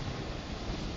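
Steady broadband wind roar buffets the microphone while riding a Royal Enfield motorcycle fitted with DNA performance air filters, a constant close rushing with no voices.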